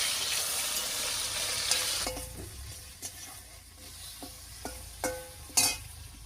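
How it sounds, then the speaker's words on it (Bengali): Rohu fish pieces fry in hot oil with a steady hiss, loud at first and then quieter, while sharp knife taps on a board sound intermittently over the sizzle. "মাছগুলো ভাজা হতে থাক"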